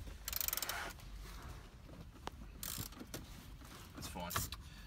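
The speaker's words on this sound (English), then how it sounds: "There's 7mm bolts as well. We're going to undo those, so Dave just giving you a look at those." Ratcheting and clicking of a tool undoing 7mm bolts beneath the stereo of a 2016/17 Ford Ranger PX2, quiet close mechanical bursts with small metallic taps between.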